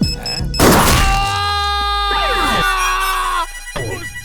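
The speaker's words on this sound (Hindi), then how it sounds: "ढिंचैक राजा मेरे को क्यों फोन कर रहा है?" An electronic phone ringtone plays loudly and continuously, a steady tonal melody with a few sharp thuds breaking in partway through.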